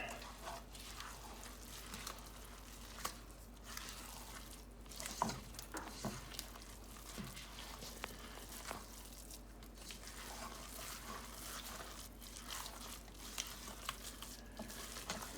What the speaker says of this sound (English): mix all this together